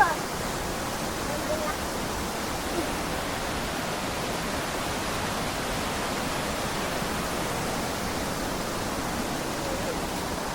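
The clear Cibentar river flows through forest, a steady broadband rush of water running close and unbroken without pause.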